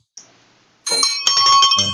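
A bell rings with a sharp bright ding, then after a short pause a louder run of clustered metallic rings follows, close and clear.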